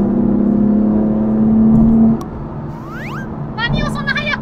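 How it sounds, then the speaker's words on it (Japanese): A Japanese kei car accelerating on a road, a steady engine drone and hum that drops off partway through, with people talking over it inside the car. "ちょっと前が空いたので加速してみました"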